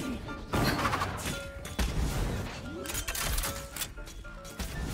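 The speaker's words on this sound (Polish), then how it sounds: "Jakie fajerwerki, no Sylwester jest dopiero za miesiąc ponad." Crackling bursts and booms of fireworks in the video game Valorant, a steady run of sharp explosions throughout, with players talking over them.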